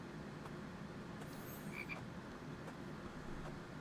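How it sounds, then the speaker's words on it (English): Frogs croak faintly and steadily against a dense ambient bed in The Infected survival video game, with a few brief clicks and a short higher chirp mixed in. "The frogs are a great source of proteins, especially early on."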